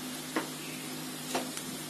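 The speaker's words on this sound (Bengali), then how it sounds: "আবার একটু ভেজে নিতে হবে।" Spices of white pepper, salt and red chili powder frying in a pan for red sauce pasta, a steady soft sizzle with two brief scraping stirs, close and alone.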